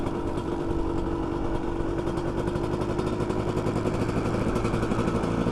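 A dirt bike engine runs steadily and loudly nearby, with an even buzzing note that holds throughout and no clear rev rise or gear change.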